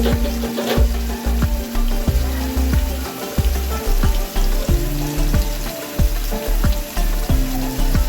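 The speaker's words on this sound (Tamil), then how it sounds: "வெங்காயம் வெங்காயம் போட்டு நல்லா வதங்கி" Onions frying in a pot for spicy chicken dum biryani, a loud, close sizzle broken by regular scraping and clanking as a spoon stirs against the metal, with no talking.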